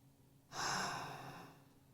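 A single close, airy inhale during guided meditation rises sharply, then fades gently over about a second in an otherwise quiet room.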